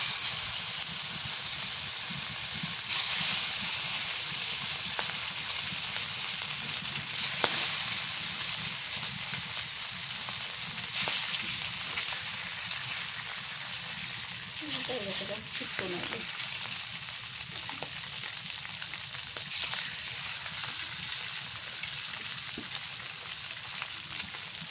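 Pieces of fish sizzle and fry steadily in hot oil in a pan, cooked for a dish with tomato and cauliflower; a continuous close hiss with faint crackles runs throughout and barely changes.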